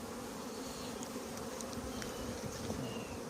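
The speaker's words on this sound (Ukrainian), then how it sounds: "пілочок виділяється і бджілки його збирають" Honeybees buzz steadily around hives at an apiary, a dense, even insect hum that stays close and continuous throughout, with faint individual bees zipping past.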